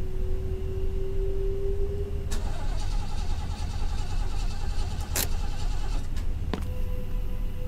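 A very old car engine in the video game Fears to Fathom, with a low, steady rumble under tonal hums and several sharp clanks and knocks.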